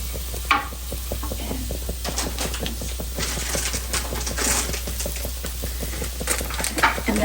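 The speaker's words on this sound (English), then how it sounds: "Now come the aromatics. We have the garlic. I don't want it to sizzle too high." Garlic sizzles steadily in a hot pan with oil coating the bottom, a continuous crackling hiss with soft stirring clicks, close and moderately loud throughout.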